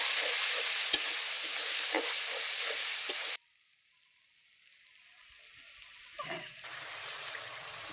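Spices with chili powder, turmeric and salt frying in a pan for egg bhuna, a loud sizzle with scraping stirs for about three seconds, then a sudden drop to near silence before a softer sizzle returns.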